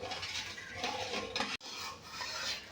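Milk and sugar are stirred together in a pot, making a soft continuous rasping scrape with one abrupt break partway through, quiet and close, with no voices.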